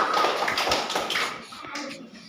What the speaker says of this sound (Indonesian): Tepuk tangan dulu untuk pengembang.